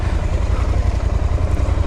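A KTM 990 Duke motorcycle engine runs at idle, a loud steady low throb with a fast even pulse, close up, with other bikes' engines running nearby.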